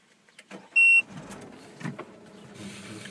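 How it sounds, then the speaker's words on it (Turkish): A Peugeot 5008 being started: a short electronic chime rings out, followed by low mechanical rumbling and a rising steady hum from the engine, heard close inside the car, with no talking. "Aracımızı çalıştıralım."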